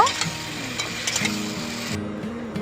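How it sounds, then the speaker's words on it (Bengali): Potatoes and pointed gourd frying in a pan with salt and turmeric, a close steady sizzle broken by several clinking stirs of a spatula against the pan, no talking. "এবার নেড়ে সব কিছু খুব ভালো করে মিশিয়ে নিয়ে আলু আর পটল লালচে করে ভেজে নেব"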